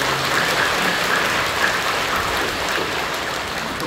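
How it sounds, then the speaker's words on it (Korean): A congregation applauds at a Korean church worship service, a dense, steady wash of clapping that fills the room without pause. "박수로 격려해주십니다."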